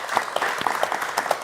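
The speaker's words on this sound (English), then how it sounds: "Big round of applause." A brief burst of audience applause in a room at a community living-room event, steady dense clapping with a few individual claps popping out.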